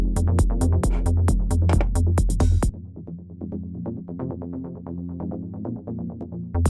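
A busy synthesizer sequence pulses in rapid repeating notes over a deep, steady bass line, first dense with punchy drums, then thinner and more open.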